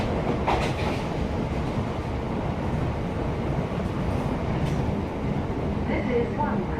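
A South Western train on the Alton, Aldershot and Guildford line runs toward Wanborough station, making a continuous, loud rolling rumble of wheels on rails with a few faint higher squeaks near the end.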